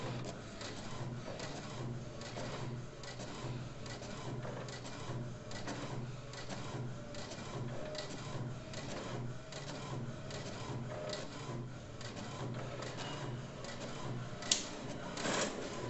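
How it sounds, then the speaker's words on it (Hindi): An HP inkjet printer with an HP 682 cartridge prints a page, producing a faint, steady mechanical whir and clatter of the print head that runs continuously, with a small click near the end. "अब हम ब्लैक प्रिंट एक करेंगे"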